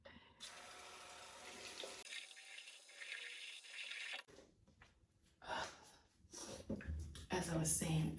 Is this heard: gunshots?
no